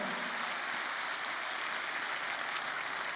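An audience claps steadily at a wellness company event in Patna, a dense, even wash of applause from many hands that holds at a constant level with no voices over it.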